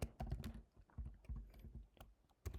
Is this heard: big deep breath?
no